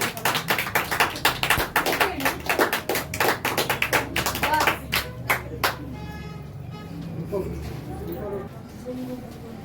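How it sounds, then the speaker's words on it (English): Teachers' Day audience applauding a teacher, a burst of fairly close, loud, rapid clapping that fades after about six seconds into a quieter room murmur. "Give a huge round of applause for him."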